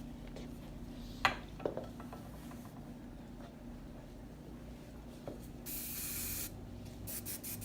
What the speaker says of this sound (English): securing it with the Fluxus hairspray